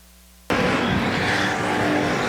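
Factory stock race cars at Golden Triangle Raceway Park roar around the track after a sudden start, a loud, dense wall of engine noise and tire sound that holds steady to the end.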